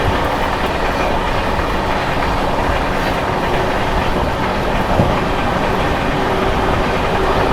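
The 12566 Bihar Sampark Kranti Express runs through Shikohabad Junction without stopping, a loud, steady roar of rolling stock with clickety-clack from the wheels and occasional faint squeals, close by and continuous throughout.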